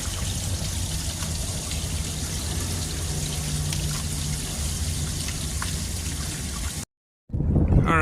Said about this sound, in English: now we're flushing this hose out